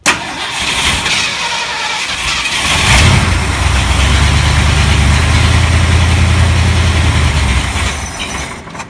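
A 1975 Ford F150 engine cranks loudly and tries to start after fuel is poured in, a long, close, rough grinding churn that rises and holds for several seconds before dropping away, with no voices.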